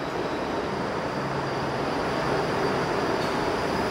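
An eastbound Toronto subway train at St Clair West station gives off a steady, loud rail rumble with faint wheel squeal, continuous throughout with no talk.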